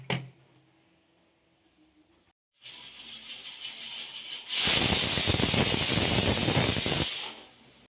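A pressure cooker vents steam while cooking pumpkin with lentils: a quiet stretch, then a rising hiss that swells into a loud, sustained rushing burst before tapering off.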